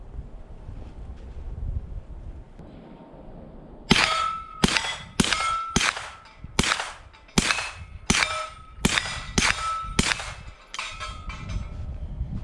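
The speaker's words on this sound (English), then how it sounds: "All right, MAT9 first. Let's run the rack and put 2 shots on the body." A MAT9 9mm AR rifle fires a rapid string of sharp, loud shots, roughly a dozen cracks in quick irregular succession, outdoors with wind noise on the microphone.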